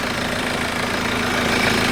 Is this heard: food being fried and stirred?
no